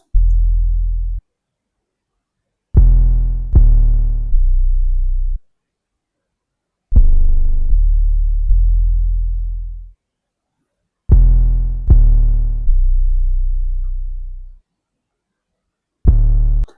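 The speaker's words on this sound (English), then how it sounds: "Probably the most interesting part of this verse section was the 808s" Deep 808 bass notes from an R&B beat's verse section boom in short groups of two to three pitched hits, each decaying into silent gaps, loud and alone.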